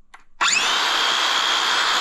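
A Makita cordless wood saw spins up abruptly after a brief quiet moment, then runs at a steady, loud, high-pitched whine close by.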